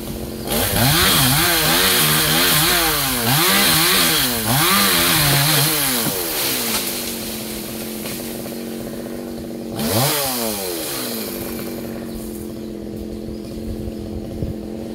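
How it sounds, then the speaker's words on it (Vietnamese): A G370 chainsaw cuts a yellow-flowered acacia tree near a house and fish pond, its engine revving up and down repeatedly under load, then settling to a steady idle before one more sharp rev, loud and close. "Cưa đó là máy cưa G370 nha các bạn"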